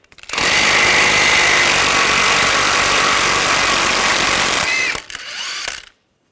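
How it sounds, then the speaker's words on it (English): A loud, close impact tool buzzes continuously for about five seconds while removing the 32 mm front CV axle nut on a 2013–2019 Ford Escape, then a short second burst before it stops. "I'm going to take this nut off,"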